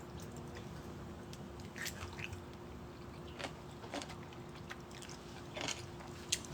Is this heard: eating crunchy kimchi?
yes